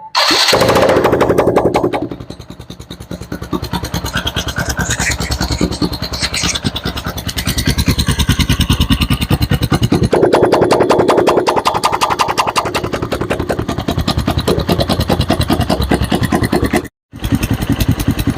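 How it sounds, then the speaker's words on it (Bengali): A TVS motorcycle engine runs with its exhaust pipe removed, a loud, steady mechanical clatter and hum that holds for the whole stretch with one brief dropout near the end. "আশা করি বুঝতেছেন ইঞ্জিন থেকে সাউন্ডটা আসতেছে তার মানে এটা সাইলেন্সারের সাউন্ড নয়"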